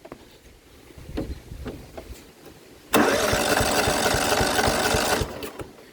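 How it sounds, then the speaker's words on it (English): A truck engine cranks without catching, a fast rhythmic starter chug that bursts in loud after a few quieter clicks and runs for about two seconds before cutting off. "this cranks but won't start"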